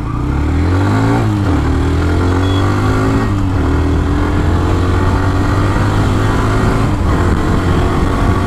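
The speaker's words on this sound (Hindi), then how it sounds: "5000 RPM के बाद बाइक का साउंड एंड नेचर दोनों ही गाइस बहुत ही ज़्यादा चेंज हो रहा है" Hero Xtreme 125R motorcycle engine revving hard above 5000 RPM, a loud continuous drone with pitch sweeps as revs climb and shift, heard close with no talk.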